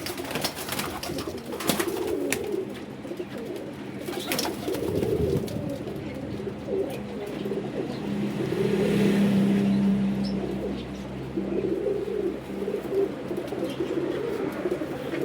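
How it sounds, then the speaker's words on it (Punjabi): Flying pigeons in a loft cooing repeatedly in low, throaty rolling calls, several birds close by, with faint traffic and a few chirps in the background. "ਅੱਛੇ ਉੱਡਣ ਵਾਲੇ ਕਬੂਤਰ ਨੇ।"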